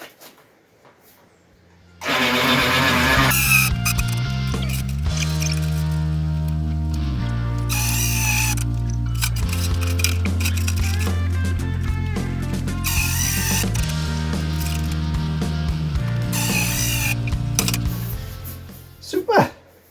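A motor-driven bead roller runs steadily while shaping a steel firewall panel for a Ford Escort MK1, a loud continuous whirring drone with shifting metallic pitch for about fifteen seconds before stopping, with a voice heard faintly.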